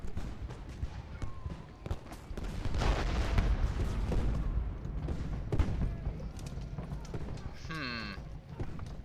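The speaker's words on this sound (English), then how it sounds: "Again, it's just these damn cannons, I think. They're just inflicting so many frickin' casualties." Cannon artillery fire in the Civil War strategy game Ultimate General: Gettysburg, a dense rumble of booms and rattling volleys that continues steadily throughout, with someone talking over it.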